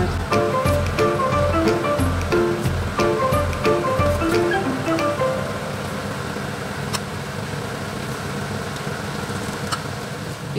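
Dahi vada fry in hot oil over medium heat, a loud, steady wash of dense bubbling and sizzling that fills the whole stretch, easing slightly partway through, with a few faint clinks and no talking.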